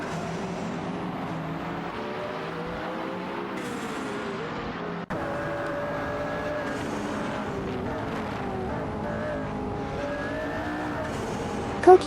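Several race cars, including a McLaren, battle for mid-pack position in a racing simulation, with engines droning continuously and shifting pitch through gear changes, close and loud throughout, with a faint tire squeal near the end.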